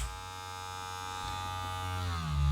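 A Wahl Vapor hair clipper motor runs steadily nearby with a smooth electric buzz, and the pitch shifts slightly near the end. No one speaks.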